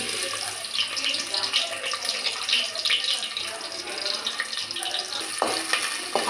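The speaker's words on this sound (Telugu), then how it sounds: "ఆయిల్ హీట్ అయిన తర్వాత మనం ఆనియన్స్ అయితే వేసుకుంటున్నాం." Onions frying in generous hot oil for a Telangana-style boti curry, a steady broadband sizzle with faint clinks, continuous and fairly close throughout.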